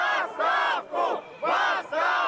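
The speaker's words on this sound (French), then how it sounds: "la foule se retourne contre lui et réclame sa démission" A large May Day parade crowd chanting rhythmically for Gorbachev's resignation, loud massed shouts in repeated bursts with short gaps between, the voices blending into a roaring chorus.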